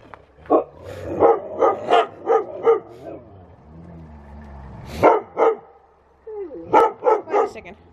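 Watch dogs bark loudly and close by in quick rhythmic bursts, a run of about eight barks, then a pause, a couple more, another pause and a final volley.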